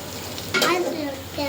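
Meat frying in a pan gives a soft sizzle, then a sudden louder burst of spatter and stirring partway through, close by, with faint background voices.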